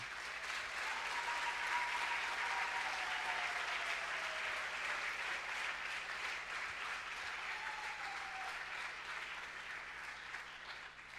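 A church congregation applauds continuously for about eleven seconds at a Sunday service, a dense, steady wash of clapping that fades slightly toward the end, with faint tones drifting through the background.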